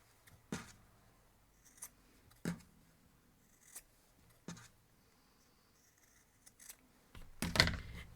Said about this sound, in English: So now we will cut the corners again.